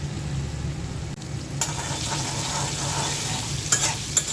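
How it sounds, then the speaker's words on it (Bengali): Chopped onions fry in hot oil for a vegetable curry, giving a steady, close sizzle with soft stirring scrapes throughout and no voices. "পেঁয়াজটা হালকা ভেজে নেব"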